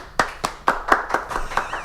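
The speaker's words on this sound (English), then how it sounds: "Round of applause." Roughly eight distinct, fairly close hand claps from a small group on a casual talk show, sparse and slightly uneven in rhythm rather than a full crowd roar.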